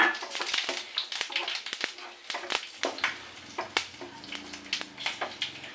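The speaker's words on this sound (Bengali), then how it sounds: "তো এটা আমার ফোড়ন দিয়ে দিলাম।" Dried chili and bay leaf tempering in hot oil for a papaya dal, a crackling, spitting sizzle of irregular pops and hisses close by, with a faint voice in the background.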